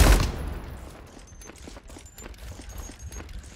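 Gunfire in a Roblox shooting game, a loud shot at the start followed by a string of lighter, quicker pops and clicks spaced irregularly at moderate volume.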